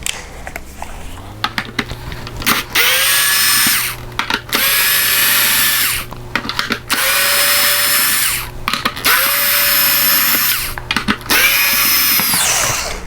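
Power screwdriver backing screws out of a Nintendo 64 shell, five long whirring runs close up, each spinning down with a falling pitch, separated by brief pauses.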